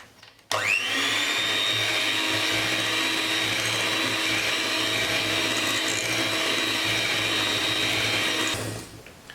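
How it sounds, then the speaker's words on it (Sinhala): An electric mixer beats eggs into cake batter, whirring steadily and loudly for about eight seconds before winding down at the end. "අපි දැන් බිත්තර එක එක දාලා බීට් කරගමු"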